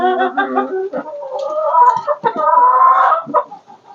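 Rowdy hens in a straw-bedded coop cluck loudly and close by, with bursts of drawn-out squawking calls that overlap one another.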